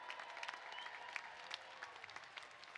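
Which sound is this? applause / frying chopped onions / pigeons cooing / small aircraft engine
applause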